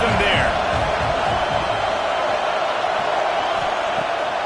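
Stadium crowd noise in the video game College Football 26, a steady, dense roar of a large crowd holding at an even level throughout, with a commentator's voice over it.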